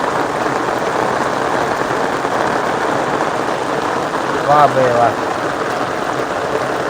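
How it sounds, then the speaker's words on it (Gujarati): Monsoon rain falling steadily with rainwater streaming and trickling in a Gujarat village, a constant broadband wash; someone briefly speaks over it. "ભાઈ વરસાદ હજી હાલમાં હજી ચાલુ છે"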